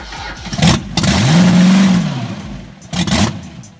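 An old drag racing car engine revs hard, climbing and holding a loud, throaty roar before easing off, then a second shorter burst of revving at close range, with no talk over it.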